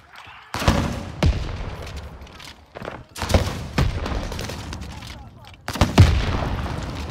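Video game gunfire in a battle royale match rattles out in several loud bursts and rapid volleys with heavy thuds between them, close and punchy, with players talking over it.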